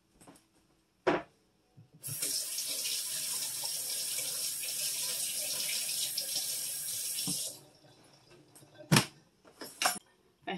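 Tap water runs steadily into a kitchen sink for about five seconds as food is rinsed under it, close and fairly loud, framed by a few sharp knocks and handling clunks before and after the flow.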